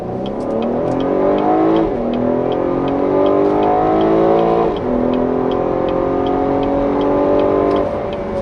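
A Cadillac CT6 sedan runs at high speed while its engine climbs through repeated rising sweeps, each ending in a shift and drop, loud and steady with a faint ticking on top.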